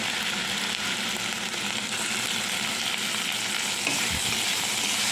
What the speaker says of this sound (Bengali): একটু ভালো করে আলুটা ভাজা হয়ে যাক